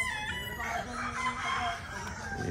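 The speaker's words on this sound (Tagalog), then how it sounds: "Yan mga manok niya mga boss dito" A flock of gamefowl, including Super Brown Red chickens, clucking and crowing together, a steady busy chorus of fowl calls close by with constant background noise.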